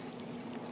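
Bentonite clay and cinnamon wash being poured into a plastic container, a faint, steady liquid pour that runs unbroken under a soft background hiss.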